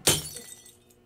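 A sharp, loud glass-like shatter in the video game SchoolLabyrinth, one close crash followed by a quickly fading scatter of debris.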